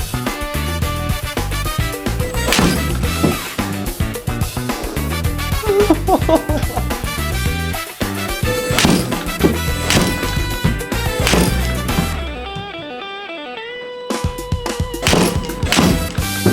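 A golf robot swings a muddy club and strikes balls, giving several sharp thwacks over a loud, dense musical background, with a short quiet gap near the end.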